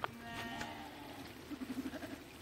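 Sheep bleating in a farm pen after feeding, a short wavering bleat near the end with steady background ambience throughout.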